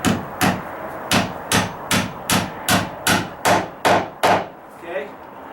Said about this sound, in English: Now I can take my thick joist hanger nail and I'm just going to nail the bottom